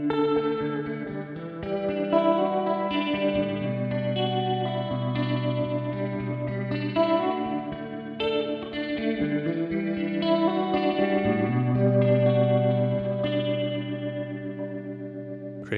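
Sustained Hammond organ chords through a guitar amp with all its effects on, drenched in swirling chorus, vibrato, distortion and echo, producing a thick, warbling wash of sound that plays continuously.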